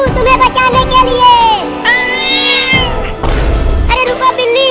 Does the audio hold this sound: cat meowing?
yes